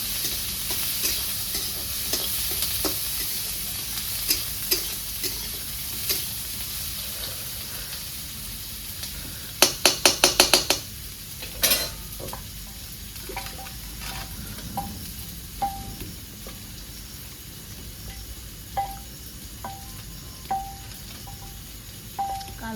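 Chopped onion fries in oil with a continuous, close sizzle, stirred throughout by a spatula. A quick run of rapid scraping clicks comes near the middle, followed by evenly spaced light taps, and there is no talking.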